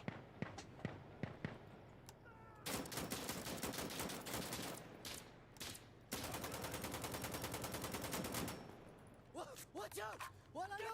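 Rapid automatic gunfire from the video game Insurgency: Sandstorm, dense sustained bursts with scattered single shots, loud and close, with voices talking over the fighting.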